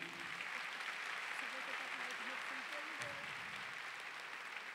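Steady applause from a crowd at a Catholic priest's sermon fills the space, with a voice faintly audible underneath.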